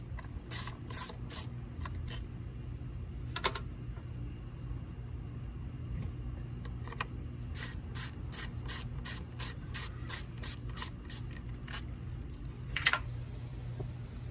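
A ratchet wrench works 10 mm bolts on a 2003 Mitsubishi Lancer ES during a valve cover gasket job, giving quick bursts of sharp clicking in uneven runs, with a longer steady train near the end, over a low hum.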